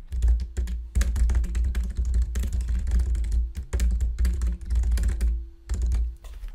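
Close, fast typing on a computer keyboard while entering recipe text into a PowerPoint prototype, a dense, steady clatter of key clicks with brief pauses, no voices.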